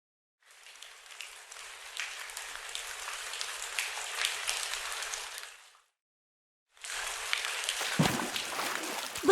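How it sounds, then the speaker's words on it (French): Rain falls in a steady, soft hiss that stops for about a second and then resumes, with a louder thump near the end. "C'est le bruit de la pluie."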